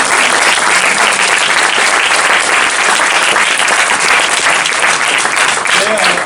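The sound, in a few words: audience applauding loudly at cosplay parade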